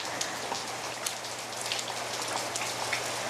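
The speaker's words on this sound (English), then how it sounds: "The rain." Steady rain patters on surfaces in a remote coastal lobster-fishing town, a dense continuous hiss with scattered brighter drop hits, close and fairly quiet, with no voices.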